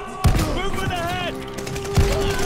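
Gunfire in Call of Duty: Vanguard comes as a few loud, sharp shots spaced apart over a steady background of game music and ambience.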